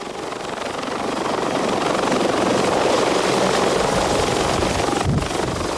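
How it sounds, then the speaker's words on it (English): A helicopter in flight on a long-distance tour, a loud continuous rotor and engine roar that stays steady throughout with no voices. "Ron and John had to make up the miles according to the fuel limitations of the helicopter."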